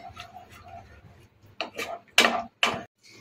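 A spoon stirs chicken tomato pasta sauce with melting cheese in a pan, giving a few soft scrapes and then two louder clinks against the metal near the end.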